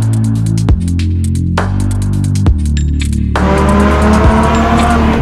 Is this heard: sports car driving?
yes